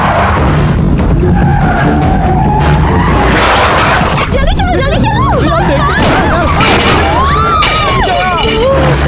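A car is rammed from behind in an action movie chase scene: loud continuous engine roar with repeated tyre screeches and skids, crashing impacts and a voice shouting over the din.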